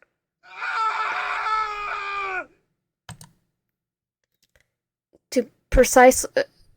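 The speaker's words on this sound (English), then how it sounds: "To a piercing scream, I awake." A piercing scream with a long sustained, strained voice rings out loudly in the yandere dating game Manufacture Love, followed after a pause by short anguished cries and yelling.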